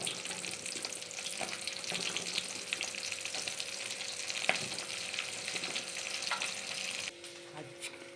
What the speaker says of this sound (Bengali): চিকেনগুলো ভাজা তুলে নেওয়া তেলের মধ্যেই আমি ছেড়ে দিলাম পেঁয়াজ কুচিগুলো